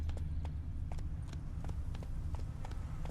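Roach, a horse in The Witcher, gallops in a steady clip-clop of hoofbeats over a low, rumbling game-music and ambient bed, each strike distinct and fairly close.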